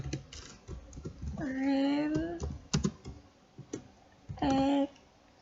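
Computer keyboard keys tapped while entering numbers in accounting software, with scattered clicks and a firmer Enter press, heard under someone talking in Indonesian.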